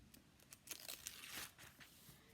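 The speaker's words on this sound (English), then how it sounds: "Maybe if I can get the page turned." Several quick papery rustles and crinkles of pages being turned, close and fairly quiet, with short pauses between flips.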